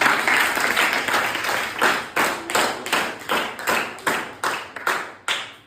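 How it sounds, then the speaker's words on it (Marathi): A small group claps for a child named Vaishnavi, a run of about a dozen sharp, fairly loud claps in a steady rhythm, close by with no talking over them. "वैष्णवीसाठी टाळ्या वाजव"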